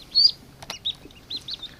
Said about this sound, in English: I heard that little sound, the little chirping sound inside the shell.